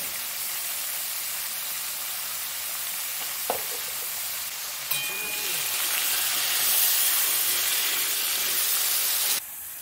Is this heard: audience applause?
no